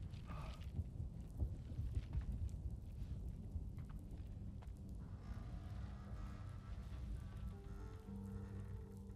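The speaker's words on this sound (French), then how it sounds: "Pourquoi il pleut à l'intérieur?" Steady rain pours continuously indoors in the video game Death Stranding 2: On The Beach, with low rumbling underneath, a dense wash of patter, while faint tonal music drifts in later.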